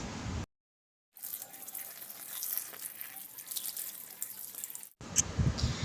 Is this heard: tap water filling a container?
yes